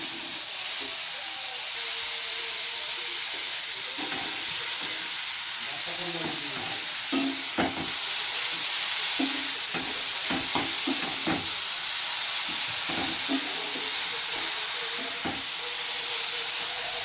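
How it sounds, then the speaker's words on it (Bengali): Grated beetroot tossed with spices in a hot pan gives a steady sizzle and hiss, broken by repeated scraping and clatter of stirring, with faint talk underneath. "এবার গ্রেট করে রাখা বিটটা দিয়ে দিলাম, একটু নেড়ে চেড়ে নিয়ে"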